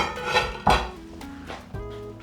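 A pot of lamb curry set down clattering as it comes off a home stove, with a couple of sharp metallic knocks and scrapes close by, no talking.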